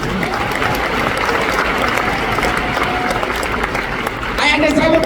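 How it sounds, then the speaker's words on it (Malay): Audience applause at a large recognition rally, a broad continuous clatter of many hands filling the space, with a voice rising over it near the end. "Tepukan untuk ibu."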